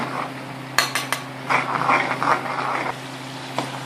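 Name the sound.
stirring tomatoes and mixed masala in a cooking pan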